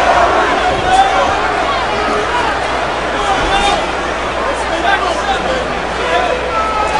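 A boxing arena crowd roars for hometown favorite Cory Spinks in his rematch with Zab Judah, a loud continuous hubbub of cheering and shouting with swells, and a commentator's voice runs over it.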